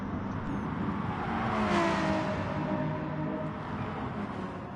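A BMW touring car in Gran Turismo Sport, racing in a BTCC-style series, drones steadily at speed with a rising, whining engine note that swells midway and holds, close and fairly loud with no talking.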